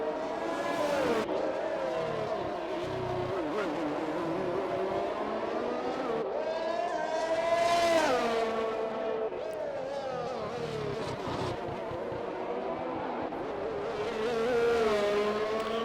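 Race car engines in the iRacing sim at the Singapore street circuit, a continuous loud multi-car drone with rising and falling pitch as cars shift and accelerate, under a commentator's talk.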